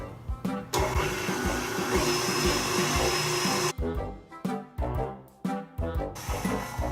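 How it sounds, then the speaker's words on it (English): An electric mixer whips Swiss roll batter in a steady whir for several seconds, then runs in short choppy bursts as it starts and stops. "Try mixing it a little longer."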